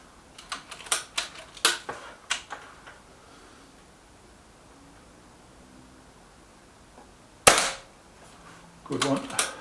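A Hatsan AT44-10 air rifle fires at a target, producing a series of sharp, close cracks with short pops and metallic ticks, spaced irregularly, then a pause, a louder single shot and a final cluster of clicks.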